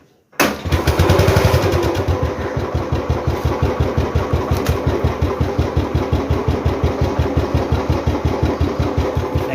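A Royal Enfield motorcycle engine fires up after a brief silence and settles into a loud, close, steady thumping idle with a regular single-cylinder beat that continues to the end.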